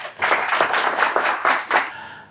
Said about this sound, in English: we'll just hand over the stage to Brother Charles with a round of applause